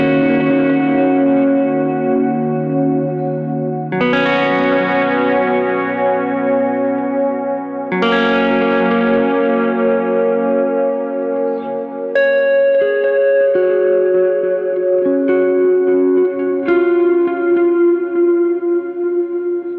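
Sustained electric guitar chords ring out through heavy reverb from a pedalboard, each new strum blooming and washing into a long shimmering tail, with no one talking.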